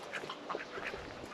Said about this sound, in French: Donc là on a les canards.